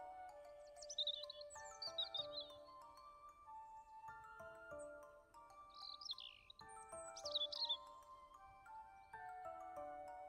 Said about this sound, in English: The sound of chirping birds surrounds me